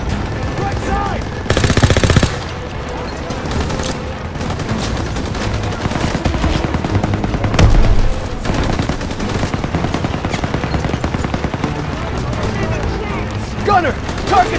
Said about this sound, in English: Gunner, target that MG-42 nest!